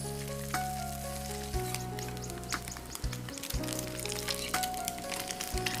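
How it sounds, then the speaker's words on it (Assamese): Small puthi fish fry crisp in hot oil, a loud steady sizzle with scattered pops and crackles running throughout, close up, with a low background hum and no voices. "বাকী থকা পুঠি মাছখিনিও মচমচীয়াকৈ ভাজি ল'ব লাগিব।"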